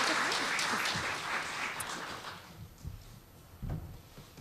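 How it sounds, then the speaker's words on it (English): Audience applause after a keynote speech at a women-in-communication event, clapping loud at first and then thinning out and fading over a few seconds. "Another round of applause, please, ladies and gentlemen."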